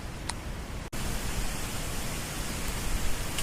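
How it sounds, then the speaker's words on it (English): Wind blows outdoors at a campsite as a loud, steady broadband rush, briefly cutting out near the start and then roaring on continuously. "Getting really windy out here."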